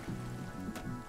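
Steady rain falls in the survival video game Sons of the Forest, a soft, even patter of drops filling the short stretch with no voices over it.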